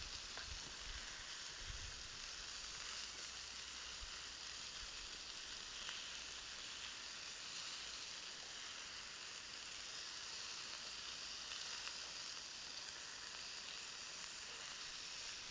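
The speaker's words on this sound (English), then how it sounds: "just sear it off and get the sauce on as quick as I can so it can just bubble away" Meat sears in a hot pan with sauce over a camp stove outdoors, giving a constant, even sizzle and hiss that carries on steadily with no talking.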